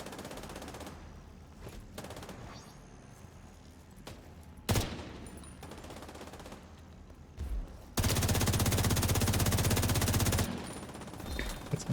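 Video game gunfire from Isaac's squad comes through as scattered single shots and a few sharp cracks early on, then a long, loud, continuous automatic burst lasting a couple of seconds before it cuts off.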